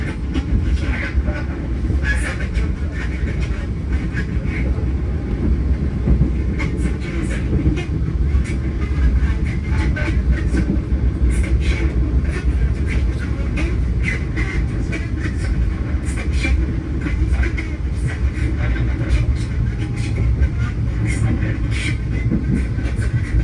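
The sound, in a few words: KA Majapahit stainless steel economy train running on rails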